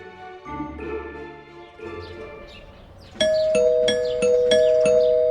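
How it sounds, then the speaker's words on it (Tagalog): A doorbell is rung again and again in quick succession as a dramatic sound effect in a Tagalog love story, with loud, bright chimes repeating rapidly after quieter background sound. "Habang kumakain naman kami ni Anton, nagulantang kami dahil sa biglang sunod-sunod na pag-doorbell"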